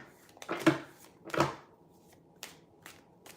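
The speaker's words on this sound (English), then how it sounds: "Just getting a good shuffle on my cards" A deck of tarot-style reading cards being shuffled by hand at a livestreamed reading, two soft riffling bursts followed by a few lighter taps, faint and close.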